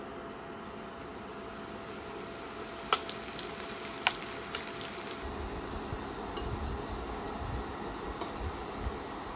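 Flour-dredged ribeye frying in oil at about 375 degrees, a steady low crackling sizzle throughout with a few sharp pops and spatters, fairly quiet and without talk.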